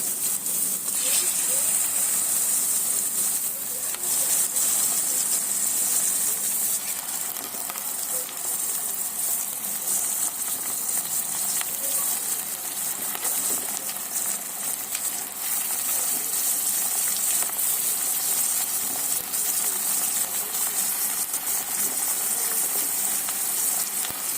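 Mutton sizzling in hot tempering oil, a steady, bright hiss of frying that holds evenly from start to finish, close and fairly loud, with no clear talk over it.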